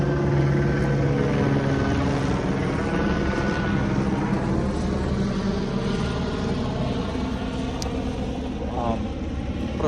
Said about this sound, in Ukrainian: просто поліцейський вертоліт, нічого такого тут